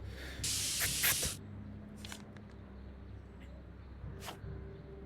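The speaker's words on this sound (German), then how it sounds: "Ja, ich helfe ihr beim Sprühen." A spray can hisses in a single loud burst lasting about a second, from the Back to the Future video game, followed by fainter clicks and short hissy puffs over a low background hum.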